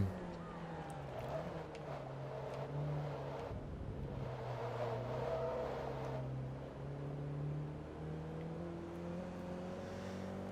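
A Mazdaspeed MX-5 in Forza Motorsport 2 drones along with a steady engine hum that rises and falls gently through gear changes, fairly quiet and continuous.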